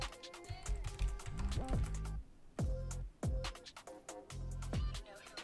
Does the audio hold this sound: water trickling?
no